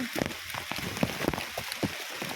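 Heavy rain pours outdoors on a mountainside, a dense continuous hiss with patters of drops striking nearby surfaces throughout.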